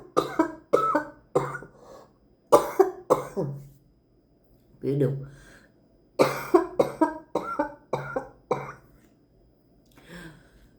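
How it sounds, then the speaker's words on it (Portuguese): A woman's coughing fit, several bursts of harsh hacking coughs and throat clearing close to the microphone, separated by short pauses and broken by a brief spoken apology. "quando vem as crises de tosse"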